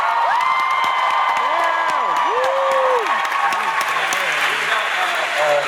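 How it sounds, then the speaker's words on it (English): A live audience at a formal event claps and cheers loudly for a producer, with continuous dense applause, whoops and shouts rising over it, and voices calling out throughout. "can I have a big round of applause for our producer, Jared?"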